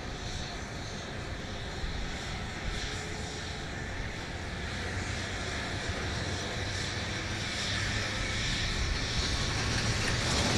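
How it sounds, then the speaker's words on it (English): Airliner arriving at Dallas Love Field on a flight from LaGuardia, its jet engines a distant, rising roar heard across the airfield, swelling gradually louder toward the end with steady background wind. "Flight from LaGuardia now coming in once again over on the east, on the west side."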